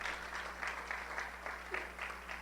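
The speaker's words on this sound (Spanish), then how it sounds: "El saludo es un aplauso" Applause from a church congregation greeting viewers watching on television, a steady wash of many hands clapping at moderate distance, filling the whole stretch without voices.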